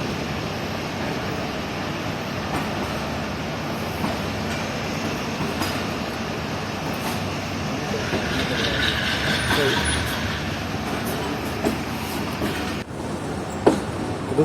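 The 44 Down Shah Hussain Express pulls out of Multan railway station with a steady rolling rumble and a faint clatter of wagons. Someone talks throughout and a sharp clank sounds near the end.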